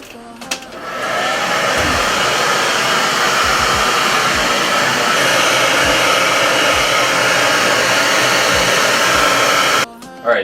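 A hair dryer blows steadily and loudly across a screen-printing screen, a continuous broadband rush that holds for about nine seconds before cutting off abruptly.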